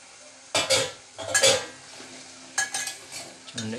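A tomato and jackfruit seed curry stirred in a pan, giving several separate bursts of scraping and clattering against the pan over a soft sizzle, close by, with no talking.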